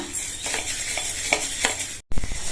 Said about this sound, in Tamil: இது எல்லாத்தையும் நல்லா வாசனை வர வரையும் கருகிராம வறுத்துக்கணும்